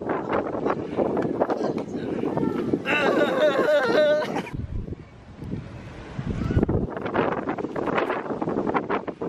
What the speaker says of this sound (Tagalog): ang lakas ang hangin